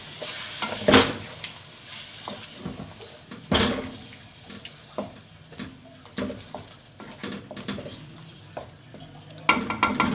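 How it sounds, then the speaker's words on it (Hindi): Blended onion masala, tomato and chicken being fried in a pan for a lobia chicken curry: a continuous sizzle broken by repeated scraping stirs and occasional clanks of the spoon against the pan, close up, no talking. "अब हम इसे अच्छी तरह भून लेंगे टमाटर भी गल जाए और चिकन भी गल जाए"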